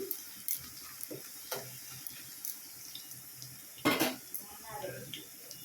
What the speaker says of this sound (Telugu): ఆనియన్స్ చూశారు కదా బాగానే వచ్చేసినాయి అనమాట దోరగా ఇలా వేయించుకోవాలి